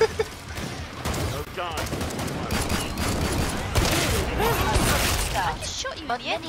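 Dense, continuous gunfire and chaotic combat noise in the co-op shooter Killing Floor 2, loud bursts layered with crashes and mechanical clatter while voices talk and exclaim over it.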